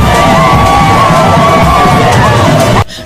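A loud, dense crowd cheers and shouts as Congo's president Denis Sassou Nguesso greets the public at a CEMAC summit arrival, a continuous roar that cuts off abruptly at the end.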